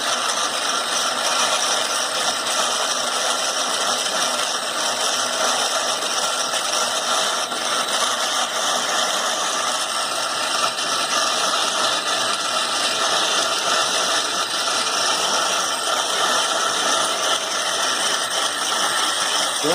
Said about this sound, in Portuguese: Eu vou ligar a máquinazinha aqui para moer.